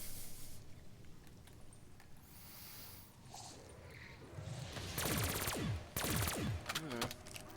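Submachine gun fire in Call of Duty: Black Ops 3, with short, sharp bursts rattling out in the second half over a steady game-ambience bed.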